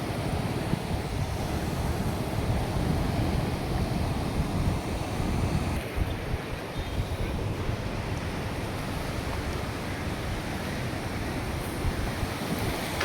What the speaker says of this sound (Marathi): आपण पाहू शकतो किती वेगानं हे पाणी वाहताना आज बी दिसतंय